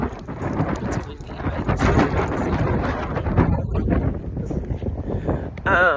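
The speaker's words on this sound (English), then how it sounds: "It's windy" Strong gusty wind buffeting outdoors near a car, roaring and rumbling steadily across the whole stretch with a few brief dips, loud and close, with no clear talk over it.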